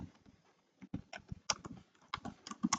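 Typing on a computer keyboard, a quick close run of soft, uneven key clicks with brief pauses, quiet and alone.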